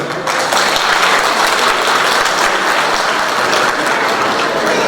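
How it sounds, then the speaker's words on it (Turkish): Loud, sustained applause from a large audience at a traditional goose-night gathering of a regional association, thick continuous clapping with no break from start to finish. "Öncelikle en büyük alkışı kendinize yapmanızı istiyorum"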